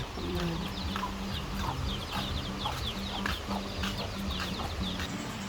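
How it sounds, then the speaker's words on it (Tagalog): Chickens cluck continuously nearby, overlapping in a busy, steady chatter with occasional sharper calls. "Ay, yung mga manok."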